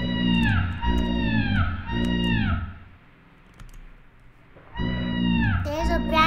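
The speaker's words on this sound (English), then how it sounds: "It's like a kitty." A cat meows in the video game Lethal Company, several drawn-out, electronic-sounding meows in quick succession, loud and close, then a short lull before more meows return; voices talk alongside.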